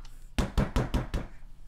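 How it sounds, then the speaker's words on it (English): A hand slams a desk five times in quick, even succession, loud close thuds over a quiet room background. "I'm slamming my desk because I can't do parkour."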